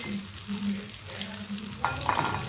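Pakoras made with rice flour crisping in ghee, giving a steady close sizzle with a low hum underneath and a few sharper clinks of a utensil toward the end.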